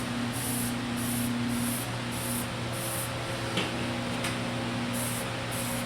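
An airbrush test-sprays for model aircraft weathering, giving a run of short, evenly spaced hissing bursts over a steady low hum from the compressor, with no talking.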